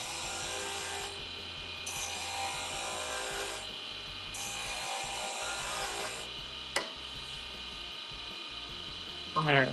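Roughing gouge cutting a wooden spindle on a lathe, a steady scraping rasp over a constant motor whine, easing off in pauses before a brief clatter at the end.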